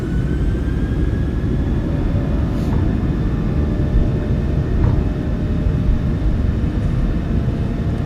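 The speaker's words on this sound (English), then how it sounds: "Takeoff power is set. We're rolling." PMDG 737-700 twin jet engines at takeoff power in the MSFS2024 video game, a steady broad rumbling roar from the cockpit as the aircraft rolls down the runway, constant and loud with a faint high whine.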